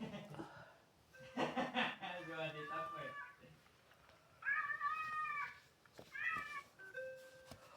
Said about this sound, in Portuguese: O miado do gato.